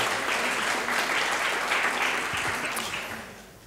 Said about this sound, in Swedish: en applåd för mannen som tar WordCamp till Sverige